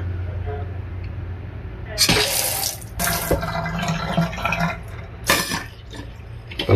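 Tap water runs steadily into a bathroom sink from a faucet with its screen removed, with sharper splashing bursts as the flow strikes metal and dishes clatter faintly.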